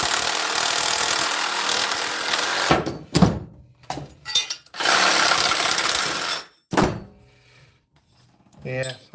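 Compact handheld Makita power tool cutting scrap copper and brass, running in several loud bursts separated by short pauses, close to the microphone.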